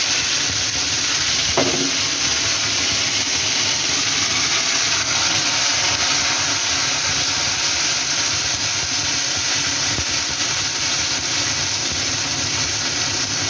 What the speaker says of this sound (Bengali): পোস্ত সর্ষে বাদাম সাদা সর্ষে পোস্ত আর বাদাম বেটে রেখেছি এই দেখুন এটা আমি এর মধ্যে দিয়ে দিলাম